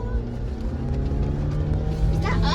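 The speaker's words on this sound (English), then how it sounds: "It's just the engine slowing us down." Off-road jeep engine droning steadily while crawling along a dirt trail in Temescal Valley, California, with a constant low hum and some rattle toward the end.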